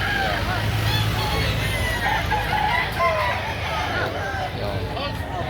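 Roosters and fowl at a chicken market in Lipa, Batangas, with clucking and crowing scattered through steady crowd babble and voices, plus passing traffic, all fairly close and busy throughout.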